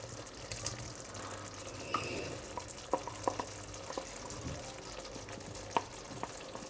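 Magro con tomate, a Murcian Spanish pork and tomato stew, simmers and sizzles steadily in a pan as green pepper is added, with soft stirring scrapes and a few light clinks of a utensil over the bubbling.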